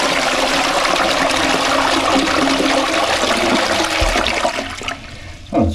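A toilet flushes hard after its blocked drain has been hydro-jetted clear, a loud steady rush of water lasting several seconds before tapering into gurgling and trickling as the bowl refills.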